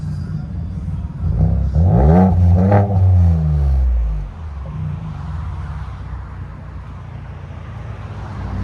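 Ford Edge ST with a 2.7L EcoBoost and muffler delete revs up loudly once, rising and falling over about two seconds, then settles to a steady low exhaust drone.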